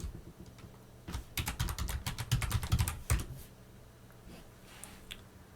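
A password is typed on a computer keyboard in a fast, close cluster of clicky keystrokes lasting about two seconds, followed by a few scattered taps and quiet.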